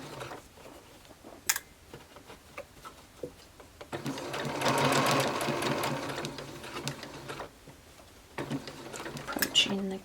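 A domestic sewing machine runs slowly along a shirtwaist over gathering stitches: a sustained close whir in the middle, then shorter bursts with a few clicks. A voice talks at times.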